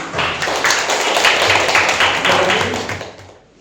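Students in a classroom clap their hands during an information technology lesson, a brisk crowded rattle of many hands that holds steady and then tapers off at the end.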